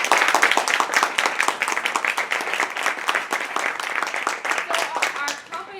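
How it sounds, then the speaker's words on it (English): Audience applause for Toastmasters members receiving the Competent Communicator award: dense, sustained clapping from a roomful of people at a club recap event, loud and close, with voices mixed in and tapering near the end. "let's just give them all a big round of applause"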